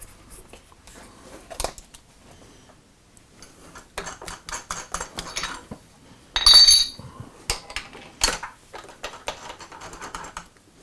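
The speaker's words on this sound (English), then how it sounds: "we'll change it out and we'll get our drill chuck in here now" Metallic clicks, taps and rattles of a drill chuck being handled and fitted into a machine, irregular and close, with one brief louder scrape.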